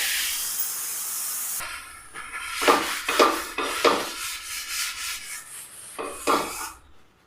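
Rava dosa batter poured onto a hot tava, with a loud sizzling hiss at first, then scraping and spreading sounds with bursts of crackling sizzle, all near and without talk.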